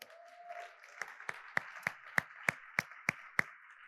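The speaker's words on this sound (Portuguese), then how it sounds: "Você está aplaudindo por educação." Sparse applause in a church gathering, a handful of sharp, evenly spaced claps ringing out one after another, fairly faint with a soft murmur beneath.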